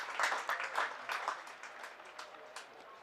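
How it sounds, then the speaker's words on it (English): Applause from a cricket crowd at an Essex Eagles versus Derbyshire match, scattered clapping that swells briefly and then thins out, moderately distant and fairly faint. "It was a rather big round of applause."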